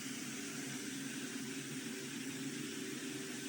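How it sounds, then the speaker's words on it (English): An industrial blower with a nozzle fitted runs at a steady, faint whooshing hum, a continuous broadband airflow rush with a low motor tone and no pauses. "At the moment, the blower is fitted with the nozzle."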